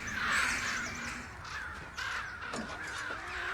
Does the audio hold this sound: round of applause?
no